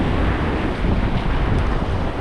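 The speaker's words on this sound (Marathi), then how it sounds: "लाटा जास्त मोठ्या आहेत" Rough sea waves surge and break against a rocky shore in a continuous loud roar, mixed with heavy wind buffeting the microphone, and no voices.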